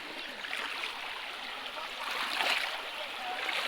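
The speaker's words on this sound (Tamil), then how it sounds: "இப்போ தண்ணி இது கால்வாய் மாதிரி போயிட்டுருக்கு" Steady rushing water flows over stones in a canal-like stream at Kuppanatham waterfall, a broad continuous wash of sound with a slight swell midway, no voices.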